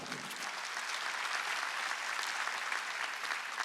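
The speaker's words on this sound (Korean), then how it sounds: "믿으면 박수 쳐야 됩니다" A church congregation at an Easter Sunday service breaks into dense, sustained applause that fills the room evenly from start to finish, with no voices over it.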